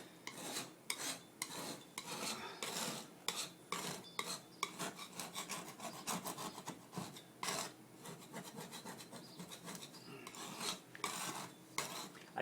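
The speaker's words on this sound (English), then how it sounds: "I try to get some of the paint up" Steady rough scraping and rasping strokes, close by and continuous, like a hand tool scraping paint off a floor.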